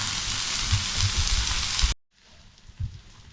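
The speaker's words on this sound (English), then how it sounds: "So we leave the onions to cook." Onions frying in a pan over low heat as part of a crispy fried pork recipe, giving a steady crackling sizzle that cuts off abruptly midway and then returns much fainter with a few soft pops.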